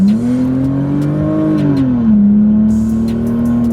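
A loud BMW E46 328 engine revving up close, its deep tone climbing and then settling back into a steady throaty idle.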